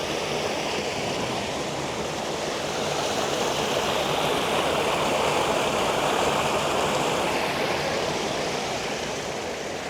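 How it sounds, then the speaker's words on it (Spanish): Water running steadily at the spring source of the Majaceite river near Benamahoma, a dense broadband rushing and gurgling of a stream heard close and continuous, with no voices. "Por aquí veis correr el agua."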